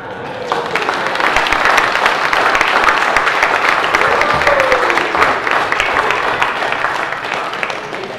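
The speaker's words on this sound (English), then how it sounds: "And that applause, Marilyn, is your wedding anniversary present for this year." Congregation applause in a church during Sunday worship, loud sustained clapping from a large crowd filling the room evenly from start to finish.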